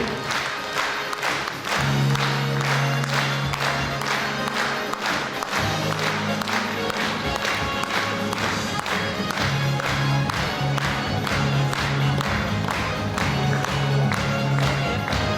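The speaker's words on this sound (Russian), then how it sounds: "Ваши бурные аплодисменты." An audience at a Bashkortostan Republic Day celebration breaks into loud, sustained applause, with dense rapid clapping and crowd noise filling the whole span while a low musical tone hums underneath.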